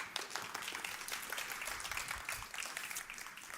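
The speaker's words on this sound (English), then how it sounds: "So let's give a big round of applause to HGB." Audience applause at a startup pitch competition, a steady, moderately quiet patter of many hands clapping through the whole stretch, with a few faint voices under it.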